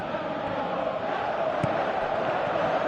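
A stadium crowd in a football video game roars in a steady, broad wash of cheering throughout, with a faint commentator's voice underneath.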